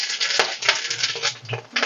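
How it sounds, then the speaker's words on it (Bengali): Dried red chillies and whole spices drop into hot oil in a pan, giving a dense crackling sizzle broken by light clinks and scrapes, up close with no talking. "এবার আমি এর ভিতরে শুকনো লঙ্কা দেব আর দুটো 4 ফোড়ন দিয়ে দেবো।"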